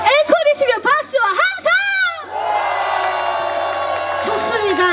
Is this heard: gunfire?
no